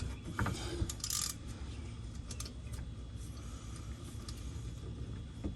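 A hand ratchet clicks in quick, uneven bursts while loosening the drain bolt during an oil change on a 2021 Toyota Camry Hybrid, faint and close with light metallic ticking.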